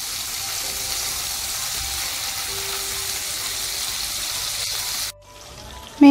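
Mackerel wrapped in banana leaf cooking in a pan over a medium flame, a steady even sizzle and hiss held close and fairly loud, cutting off abruptly near the end into near quiet, no talking.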